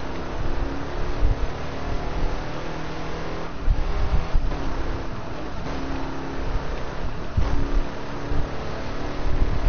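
A car in the video game Burnout Paradise drives on with a constant buzzy engine drone and shifting pitch, loud and continuous with no voices.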